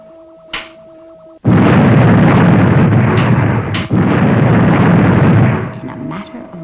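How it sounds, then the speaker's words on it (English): A loud, sustained rumbling roar of a volcanic eruption, a sound effect from the Fireball XL5 puppet series, bursts in abruptly after a faint electronic tone and holds for several seconds before easing. "I have learned the secret of controlling the volcano. By bombarding its core with atoms, I can erupt it at will."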